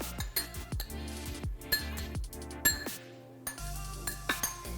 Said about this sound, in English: I'm gonna take all of the eggs that I cooked, mix them in with the potatoes, add avocado